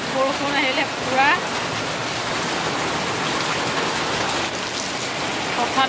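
Sudden heavy rain pours down steadily, a dense close hiss of drops on surfaces filling the whole clip, with faint voices briefly audible beneath it.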